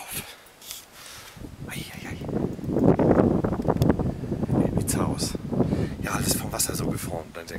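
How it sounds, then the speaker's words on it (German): Outdoor wind buffets and rumbles across the microphone on a day out in the American West, rising and falling in gusts beneath someone speaking close by. "Hier ist so schön, der Wind"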